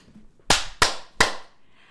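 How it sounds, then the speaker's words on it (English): Three sharp hand claps ring out in quick succession, loud and close, each with a brief decay, against near silence. "clap, clap, clap."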